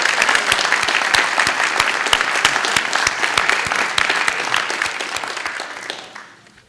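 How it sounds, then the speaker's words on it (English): Audience at an awards banquet breaks into steady, dense applause with sharp individual claps standing out, holding strong for about six seconds before tapering off at the end. "can we give everyone a round of applause, please?"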